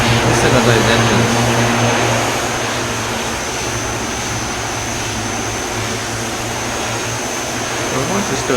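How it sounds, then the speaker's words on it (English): Twin Otter turboprop engines in the Prepar3d flight simulator, a loud steady droning hum with a propeller whine that eases slightly after the first couple of seconds and then holds steady. "Those engines."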